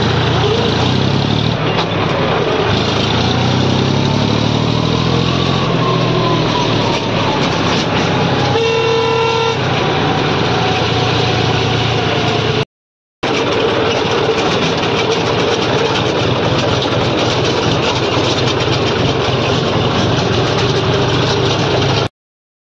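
A farm vehicle's engine runs hard in top gear on the way to a grain mill, a loud, steady mechanical drone with a brief horn-like toot partway through and a short cutout, heard up close.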